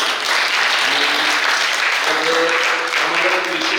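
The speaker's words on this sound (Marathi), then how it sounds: "टाळी वाजवा." An audience applauds at a devotional kirtan gathering, a dense, sustained wash of clapping with faint voices mixed in beneath it.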